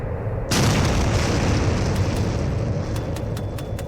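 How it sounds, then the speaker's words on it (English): Cannon fire in an audio drama: a heavy, sudden boom followed by a sustained rumbling roar and scattered crackling, loud and dense throughout. "It looks like they've got 5 cannons?"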